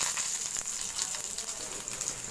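Cinnamon, cloves and green chilies frying in hot oil give a bright, even crackling sizzle, close and moderately loud, with a few sharper pops and no voices.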